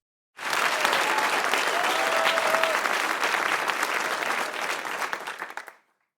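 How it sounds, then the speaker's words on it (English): A round of applause from an audience, steady dense clapping that swells quickly, holds for several seconds and then fades out. "Y'all give up a round of applause for Justice for Dolph."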